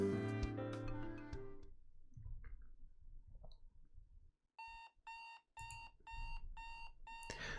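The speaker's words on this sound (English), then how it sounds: "This alarm clock noise reminds me of the alarm clock noise from Five Nights at Freddy's 4." An alarm clock in a Doki Doki Literature Club mod video game rings in a rapid, evenly pulsed electronic beeping burst after a stretch of soft musical tones and quiet clicks, clear and upfront with no voices.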